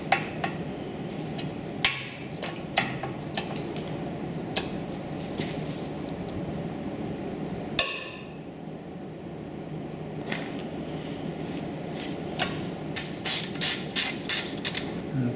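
A breaker bar cracks loose the brake caliper bolts on an Audi Q7, giving scattered metallic clicks, knocks and ratchet-like snaps close up, with a sharp creaking release midway and a quick run of clatters near the end.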